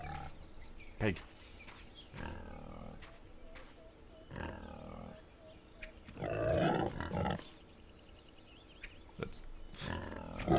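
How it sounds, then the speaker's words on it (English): Pig grunts from a survival crafting game, several short bursts spread across the clip, mixed with other creature snorts and game effects, with a louder growling stretch in the middle and a voice talking now and then. "I heard pig."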